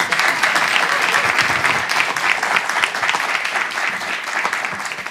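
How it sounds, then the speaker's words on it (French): Steady, dense audience applause from a crowd, loud and continuous for several seconds with no talking over it. "Ça s'applaudit, je vous promets."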